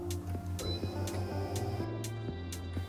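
An electric-motor Kala flatbed laminator runs with a steady low motor hum and sustained tones, broken by soft, regularly spaced ticks about every half second.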